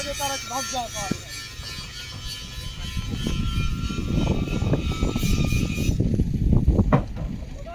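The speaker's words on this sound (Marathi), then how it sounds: "मालवाहू गाडी आहे" A freight train rumbles along the rails on the Ahilyanagar–Beed–Parli railway line, growing louder and heavier as it passes, with a person talking over the noise early on.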